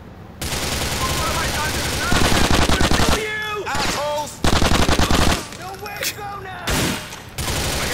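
Loud bursts of rapid automatic gunfire in the video game Grand Theft Auto 4: The Ballad of Gay Tony, several sustained volleys broken by brief pauses, with a voice faintly audible between shots.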